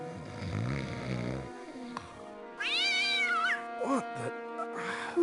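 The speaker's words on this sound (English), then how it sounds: "Who let that blasted cat in here?" A cat meows loudly in the video game Hidden Mysteries: Titanic, with a long rising-and-falling yowl followed by a few shorter meows, preceded by a low snoring or grumbling sound.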